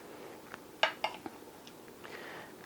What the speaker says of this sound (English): we're going to smooth that out with a spoon and just stir it around